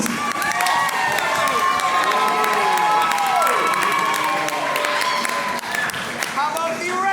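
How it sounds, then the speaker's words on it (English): Loud crowd at a comedy improv show clapping and cheering for the blue team, a dense sustained roar of applause mixed with whoops and shouts throughout. "Clap now if you think those 5 points should go to the blue team."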